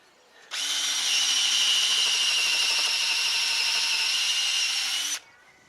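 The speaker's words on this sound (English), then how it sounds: "then we use an impact driver, and that screws them down securely" An impact driver screws down wooden decking boards outdoors: one steady, loud, high-pitched buzzing run of about five seconds with a sharp start and stop, heard alone.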